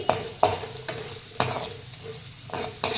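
Cashews browning in a frying pan sizzle softly while a spoon stirs them, giving several sharp scraping clicks against the pan over a low frying hiss.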